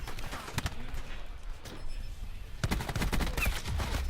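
Gunfire in a competitive shooter video game match, bursts of rapid shots in two clusters with quieter gaps between them, heard fairly close.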